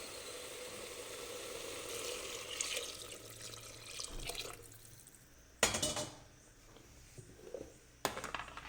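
Hot water poured into a pot of fried tomatoes for green tomato rice, a splashing liquid rush fading into a quieter trickle, with two sharp louder splashes later and pauses of quiet between.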